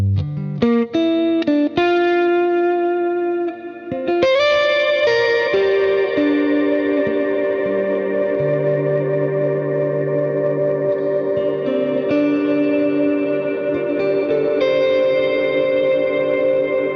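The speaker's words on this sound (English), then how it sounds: "the reverb increases in volume, and also the reverb time goes all the way up to infinite" A reverb effect's decay time is swept up to infinite with an expression pedal. After a few quick plucked notes, the tones swell and hang in a loud, layered wash that keeps sustaining without fading.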